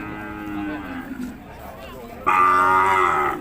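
Cattle on a Thai farm with twin calves moo in two long calls, the second louder and closer, with a faint voice in the background.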